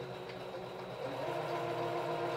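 Sewing machine sewing a cloth pad in straight stitch, a steady close motor whir with a fast even stitching pulse, slightly louder in the second half.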